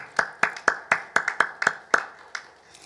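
A church congregation at a Wednesday worship service claps in a brief burst of about ten sharp, fairly regular hand claps that fade out toward the end.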